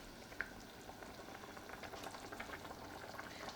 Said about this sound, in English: We basically want to boil all that water off now and try and get a nice thick rich tomatoey sauce.